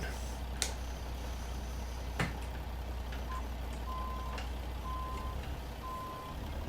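A Peterbilt 379 with a 60-ton Aspen highboy trailer in American Truck Simulator backs up, its reversing alarm sounding a steady series of evenly spaced electronic beeps over a low engine rumble, with a few faint knocks.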